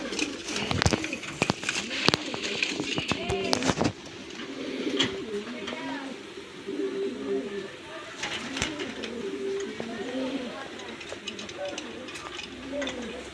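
A male Rasgolla pigeon coos in repeated rounded, warbling calls at close range, sounding after a burst of sharp clicks and knocks at the start and continuing through fainter background noise.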